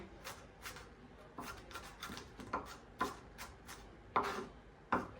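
A knife chops onions on a board in a home kitchen: about a dozen quiet, uneven taps, some sharper than others, with no talking.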